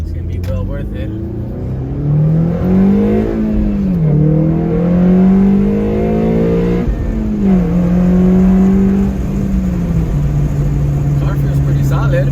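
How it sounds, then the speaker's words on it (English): A 9th-generation Honda Civic with a test pipe replacing one catalytic converter accelerates hard. Its loud, close engine note climbs in pitch through two strong pulls, then settles into a steady drone. "VTEC engagement is a lot louder now that it removed one of the catalytic converters."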